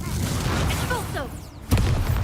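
Expulso blasting spell from the Hogwarts Legacy video game, a dense rumbling boom with a sharp burst near the end, set in busy combat noise with whooshing magical effects.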